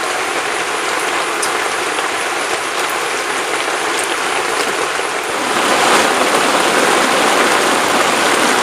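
Heavy, relentless rain pours down on a floating house, a dense steady hiss of drops on the roof and water that swells slightly louder partway through, with no voices.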